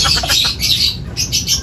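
Racing pigeons arriving at the loft during a derby race in Sison, Pangasinan, giving close, loud, repeated squawks and chirps with fluttering bursts.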